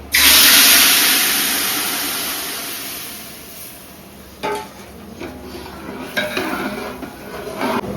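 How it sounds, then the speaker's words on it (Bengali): Ginger-garlic water poured into hot oil for biryani bursts into a loud, hissing sizzle that slowly fades, followed by scraping stirs and clinks of a utensil in the pan. "এখন এই আদা রসুন জলটা দিয়ে দেবো এই তেলে"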